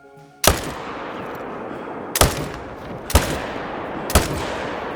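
A .300 rifle fires in the hunting game Call of the Wild, four sharp, loud shots spaced about a second apart, each followed by a long rolling echo through open terrain.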